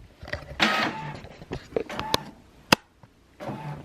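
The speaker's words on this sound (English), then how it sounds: "Do you guys hear how slow this printer is right now?" A slow office printer working through a portfolio printout, with intermittent mechanical whirring, feed clicks and sharp clacks spread unevenly, fairly close and alone.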